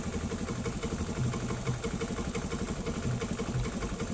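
A Honda Beat carburettor scooter engine runs steadily at idle after its starter motor is jumpered, a close, even, pulsing putter with no talk over it.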